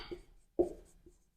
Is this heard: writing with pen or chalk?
yes